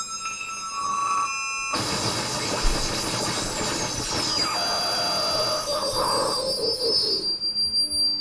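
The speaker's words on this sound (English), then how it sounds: "You can even get some very noise-like waveforms." A harsh, noisy FM synthesizer waveform from a WSYnth FM Operator W-104 roars and hisses with shrill, squealing overtones and a sliding whine, dense and continuous throughout.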